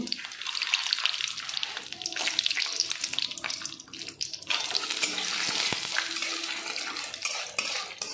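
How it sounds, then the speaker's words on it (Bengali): Cashews sizzling in hot oil with fenugreek and other spices in a wok, a steady close hiss and crackle with brief stirring scrapes, no talk. "কাজুগুলো একটু লাল লাল করে ভেজে নেব।"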